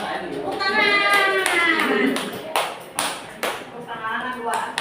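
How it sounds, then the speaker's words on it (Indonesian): A classroom of children claps hands together, with rhythmic applause mixed with young voices talking and calling out. "Tepuk tangan."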